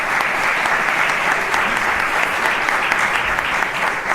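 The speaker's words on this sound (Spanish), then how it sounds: "diría que la gente aplaudiera porque estamos con público" A live studio audience claps in a dense, sustained burst of applause, close and fairly loud, with no voices over it.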